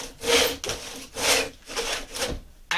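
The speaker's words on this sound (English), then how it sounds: "This is a miter box saw," A miter box saw cutting freehand through the extra material of a wooden boat half hull model, four or five close, rhythmic rasping strokes with short pauses between them.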